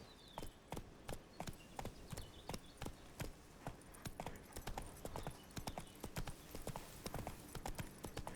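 A horse gallops in The Witcher 3: Wild Hunt, its hooves pounding a loud, rapid, steady clip-clop rhythm close up, continuing without pause.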